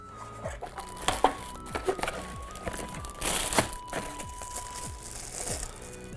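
Packaging of a Retro Genesis wireless console crinkles and rustles in repeated close bursts as the box contents are handled, with a few sharper crunches and a soft background hum.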